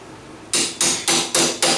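A hammer strikes a socket to straighten bent lock tabs on a Banshee axle bearing, four sharp, evenly spaced metallic taps, each ringing briefly before the next.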